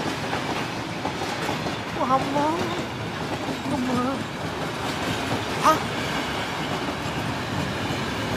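A train rolls past on rails with a steady, loud rumble and clatter and brief wheel squeals, while a person briefly exclaims over the noise.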